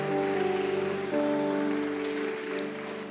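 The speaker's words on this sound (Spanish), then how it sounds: "dale un aplauso fuerte al Rey de Reyes y Señor de Señores." Loud applause from a church congregation honoring the King of Kings, a dense wash of clapping sustained for about three seconds over steady held musical tones.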